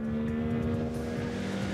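A powerful petrol engine drives a one-of-a-kind 4.4-metre fiberglass and Kevlar bionic dolphin submersible, giving a steady droning hum with a strong tonal whine, close and continuous throughout, no voices.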